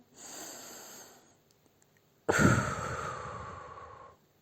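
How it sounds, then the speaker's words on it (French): A deep, slow breath taken during a relaxation exercise: a soft inhale, a pause, then a louder, longer sighing exhale, close and clear with no talk. "Tu prends une grande respiration"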